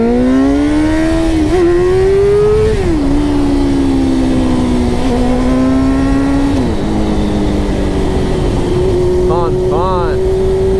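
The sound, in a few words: Suzuki GSX-R 600 motorcycle accelerating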